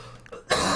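A person lets out a single short, harsh cough close to the microphone, following a brief quiet moment.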